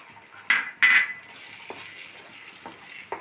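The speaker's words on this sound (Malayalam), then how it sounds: "നമ്മൾ വെച്ച പഴത്തിൻ്റെ കൂട്ട് പാനിൽ നിന്ന് വിട്ട് പോരുന്ന വരെ നമ്മൾ ഇളക്കി നിൽക്കണം." Banana halwa mixture of ripe nendran plantain being stirred in a pan, with two sharp scraping clinks early on and softer, lighter scrapes and taps afterward, close and alone with no talk.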